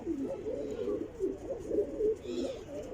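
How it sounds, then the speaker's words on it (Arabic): Pigeons cooing on a rooftop, a steady run of low, rolling coos repeating close by, fairly soft and continuous with no talking over them. "هذول يعني طيور نسل"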